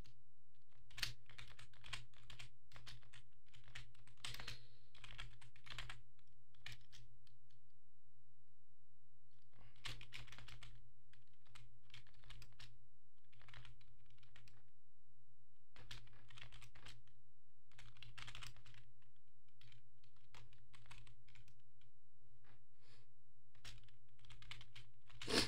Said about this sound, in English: I'm so great at typing.